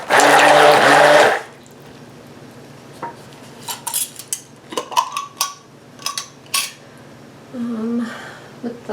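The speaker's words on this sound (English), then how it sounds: "So let's keep mixing." Red colorant is worked into soap batter, with scattered clinks and scrapes of a utensil against the container after a brief loud whirring burst at the start.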